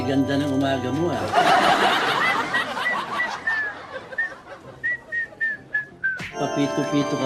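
A person whistles a short bright tune in a run of rising and falling notes, then a string of separate clipped whistled notes, over laughter and chatter in a game setting, ending with an abrupt cut to louder sound.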